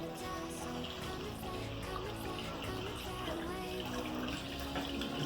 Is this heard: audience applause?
no